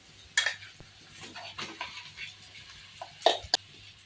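Boiled, fried potatoes tumble into a cooking pan with a few scattered clinks and scrapes of a utensil against metal, fairly quiet, with no talking.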